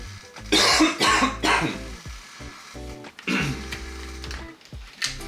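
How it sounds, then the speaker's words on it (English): A person with a dry throat coughs several times in quick bursts, clearing phlegm, loud and close to the microphone, with short pauses between coughs. "Let me cough it out."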